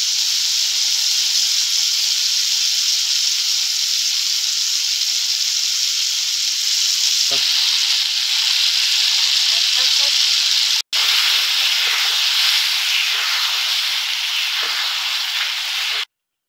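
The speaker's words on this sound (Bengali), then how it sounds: "রসগোল্লার মতন ফুটছে টকবক করে" Karamcha (carissa) pickle with salt, sugar and fried spices bubbling and boiling hard in a pan, a steady close, loud hissing seethe that runs throughout, broken by one brief cut near the end.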